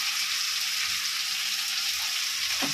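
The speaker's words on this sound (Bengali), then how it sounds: "এবার আমি এগুলোকে ভালো করে মশলাগুলোকে একটু কষিয়ে দেবো" Spices sizzle steadily in a hot pan for an aloo potol masala, a dense close frying hiss that runs unbroken, with a brief stir or scrape near the end and no talking.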